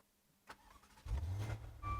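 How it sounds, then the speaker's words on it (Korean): A Maserati Levante GTS with a twin-turbo V8 starts up: a brief click and whir, then a deep, loud engine catch that settles into a steady, rumbling idle close by, with no talking. "와, 역시 마세라티는 이 엔진음이죠."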